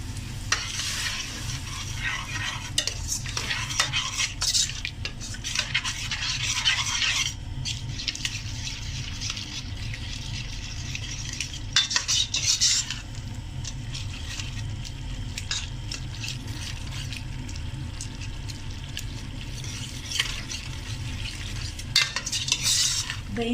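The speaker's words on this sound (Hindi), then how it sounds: "दही को ज़रा अच्छी तरह मसाले में मिक्स कर लें।" Yogurt being stirred into a spiced cluster bean masala in a pan, with continuous frying sizzle and repeated scraping, clinking stirs of a spoon against the pan throughout.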